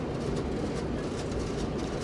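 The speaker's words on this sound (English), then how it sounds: "here comes the train, coming very, very slowly in from Bletchley LMD" A London Northwestern diesel multiple unit creeps slowly in from Bletchley on the Marston Vale line, a continuous low rumble and rolling drone, steady and fairly close, with no voices.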